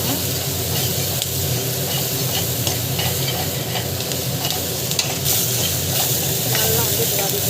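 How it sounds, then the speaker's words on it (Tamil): Pulicha keerai (gongura) leaves are sautéed in a hot pan, giving a loud, continuous hissing sizzle with faint stirring scrapes layered throughout and a brief surge of hiss midway. "நல்லா வந்து இது வதக்கிக்கணும்."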